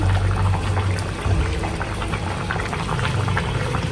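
Tengra fish and potato curry cooks in a pot with a steady close bubbling and simmering that continues evenly throughout, with no voices.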